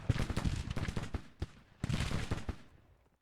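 Artillery bombarding in a Civil War tactics game (GTCW), two rapid clusters of sharp cannon and gunfire reports, close and punchy, each volley trailing off with rumble, no voices.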